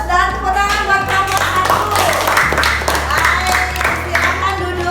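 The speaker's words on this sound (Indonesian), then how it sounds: "aplaus dan tepuk tangan buat kamu" Classroom applause, a short burst of hand clapping from students for several seconds, close and moderately loud over a low steady hum.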